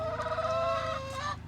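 Ugly rescued battery hens and a rooster cluck continuously and close by, a dense layered chorus of farmyard fowl with no talking over it.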